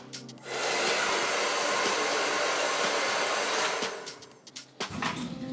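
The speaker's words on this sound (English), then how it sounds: "I'm blow drying my hair in the opposite direction of the way it falls" A hair dryer blows steadily and loudly up close while it dries hair, running for about three seconds before it cuts off into brief fumbling noises and then starts again.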